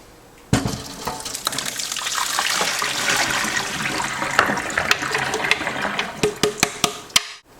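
Water rushes and drains through riced cauliflower held in a fine mesh colander, a loud continuous splashing flow with scattered drips and knocks that ends abruptly.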